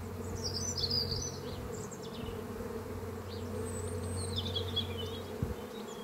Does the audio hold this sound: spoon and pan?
no